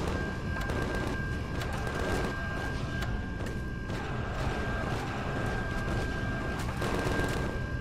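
Steady sci-fi weapons fire in the space survival game Empyrion Galactic Survival, a dense stream of rapid repeated shots running unbroken throughout over a constant hum, with no voices.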